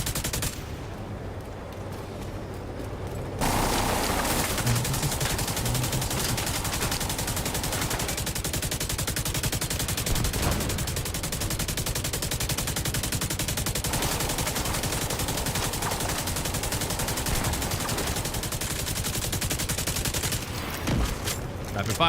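Rapid video game gunfire pours out in one long unbroken stream after a brief quieter opening, loud and continuous before cutting off near the end, with a voice faintly underneath.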